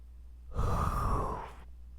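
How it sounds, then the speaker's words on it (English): A single long, drawn-out yawn with a breathy, voiced tone, rising and fading over about a second, close and alone. "Sorry, excuse me. I yawned."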